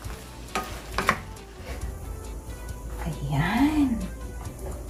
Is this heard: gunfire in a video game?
no